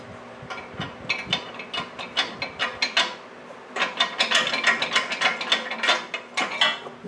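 A part slides in and out of an Anyang power hammer, producing a rapid run of metallic clicks and ratcheting scrapes, close and fairly loud, briefly pausing midway, with no speech.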